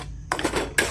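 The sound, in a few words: stirring yogurt into paneer masala in a pan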